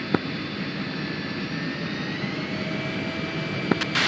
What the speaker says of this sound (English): Fiend Flight 1 will be taxiing to runway 23 left